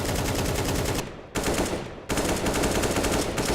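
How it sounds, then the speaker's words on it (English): AK-47 firing in Counter-Strike 2: loud, continuous automatic bursts at close range, broken by two brief pauses before the fire resumes, with no voices. "listen to the sound of a AK-47."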